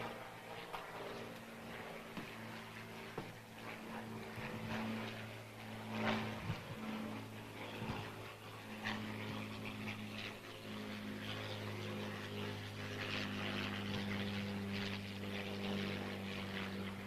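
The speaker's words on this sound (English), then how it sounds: "Joining us today from the Fighter Factory Museum in Virginia Beach and sponsored by the Lynchburg Regional Air Show, the Supermarine Spitfire Mark 9." A Supermarine Spitfire Mark 9 fighter flies over the 80th anniversary D-Day commemoration at the National D-Day Memorial, its propeller engine a steady, moderately loud drone with a slight swell midway and no talk.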